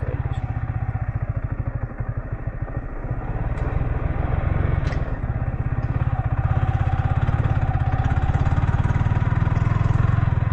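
A motorcycle engine thrums close by as the rider picks along a slippery off-road trail near Godawari's Marble Danda, the steady pulsing chug rising slightly in loudness over time, with no talk.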